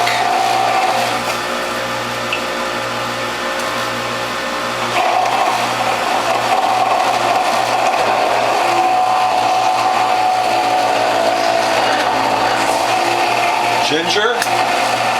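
A WHF juicer fitted with a Near Zero Maxi Shredder cutter grinds turmeric with a steady, loud motor whine and low hum, and the load shifts audibly partway through as the pitch rises slightly, continuous throughout.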